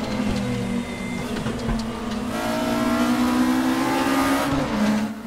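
A Volkswagen Scirocco Group 2 race car in RaceRoom, a front-wheel-drive racer, roars loudly at high revs, its engine note climbing steadily through the gears as it accelerates, with no talking.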